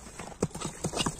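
Hooves of a horse for sale clip-clop in a quick trotting rhythm, close and distinct, with several crisp strikes over a short stretch.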